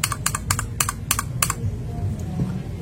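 A TTC Tiger mechanical keyboard switch is pressed repeatedly, giving about six sharp, close clicks in a quick, even rhythm before a quieter stretch with a faint low hum.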